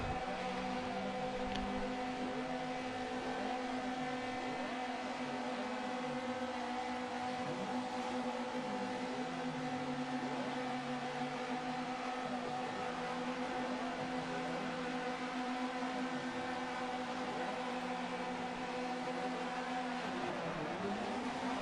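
Touring car engines drone and rev in a championship race at Mugello, several tones rising and falling in sweeping arcs as cars pass, a steady distant roar with no talk over it.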